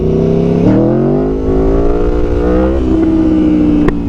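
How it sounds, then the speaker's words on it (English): A motorcycle held in first gear for a power wheelie, its engine revving loud and close with rising and dipping pitch as the throttle is worked, a steady strong drone throughout. "let me show you how to power wheelie in first gear"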